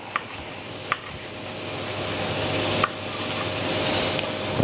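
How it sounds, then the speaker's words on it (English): Sliced onions frying in a pan for spicy pork rissoles, a steady close sizzle that swells gradually, with a few light knocks as the pan is tossed and no talking. "Give the onions a little toss while you're waiting."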